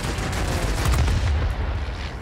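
Aircraft machine guns in World of Warplanes rattle loudly in a dense, sustained burst over rumbling engine noise, with no pauses.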